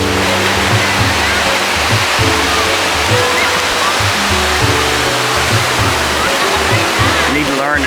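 Surf rolling in at Charlie's Point beside a hotel in Baler, a surfing beach: a steady, loud wash of breaking waves fills the whole stretch, with a brief rumbling disturbance near the end.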